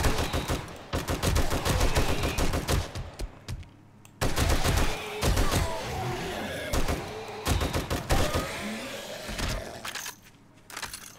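Rapid gunfire against a zombie horde in the game 7 Days To Die, dense bursts of automatic shots with brief pauses and a reload gap, loud and close, plus thuds and crunching impacts.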